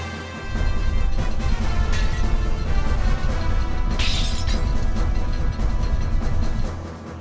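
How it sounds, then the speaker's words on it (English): Glass shatters in a video game amid a loud, continuous rumbling and shaking, with a bright crashing burst about midway through the dense din. "Somewhere, glass shattered."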